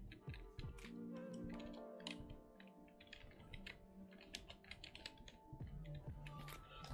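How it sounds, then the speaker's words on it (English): Computer keyboard typed on in a dark room, rapid close key clicks in irregular clusters, with a faint tonal hum running underneath. "It's hard typing in a dark."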